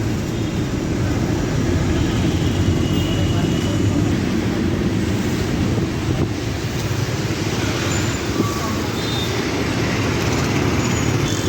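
Steady engine drone and road rumble inside an ordinary white-and-red TGSRTC city bus in Hyderabad, a continuous loud wash of motor and traffic noise with no clear breaks.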